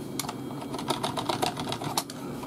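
Quick clattering keystrokes on a vintage PS/2 mechanical keyboard, a brisk run of clicks over a steady background hiss.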